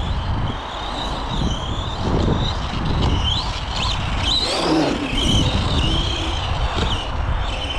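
Arrma Gorgon RC monster truck accelerating off-road, its electric motor whining and rising in pitch through fluctuating bursts, with tyres crunching over rough ground, fairly close and continuous throughout.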